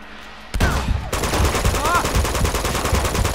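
Rapid gunfire crackles loud and dense in Uncharted 2 Among Thieves Remastered, with bursts of automatic shots and whizzing effects that run on almost without a break.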